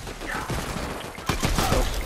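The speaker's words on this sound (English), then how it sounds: "Whoa, I just got sniped." Gunfire in Fortnite, with a couple of sharp cracks ringing out amid a dense, noisy game soundscape. No speech is heard.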